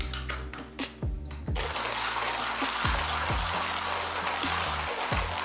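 Coffee beans are coarsely ground in a grinder. A few sharp clicks come first, then a steady, close grinding rasp with a regular low thump repeating about once a second.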